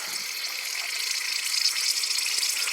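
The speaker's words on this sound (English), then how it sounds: "You hear air coming out right now." Air hisses steadily from a leaking coolant hose on a VW Jetta 2.0 during a coolant leak repair. The hiss is close and continuous, with a slight rise in strength partway through.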